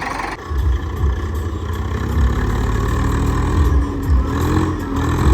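A tractor engine runs steadily with a low, throbbing diesel rumble, close by and continuous, with slight rises in revs.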